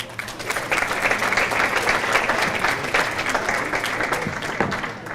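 A bowling association's adult banquet audience applauds an all-city team honoree, with dense steady clapping throughout and no break.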